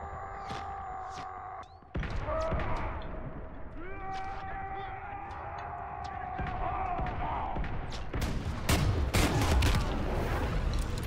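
Gunfire and explosive blasts in Call of Duty WWII, with sharp shots scattered over steady battle noise that thickens toward the end, heard alongside game music and voices.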